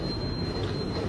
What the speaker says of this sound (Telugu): ఇక పోతుంది ఆ ట్రైన్